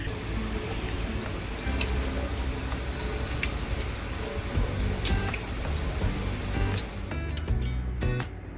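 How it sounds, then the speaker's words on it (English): Water bubbling in a pot on the stove while bacon cooks for a loaded potato salad, a steady churning, dripping wash of liquid with faint clicks near the end. "Water's boiling."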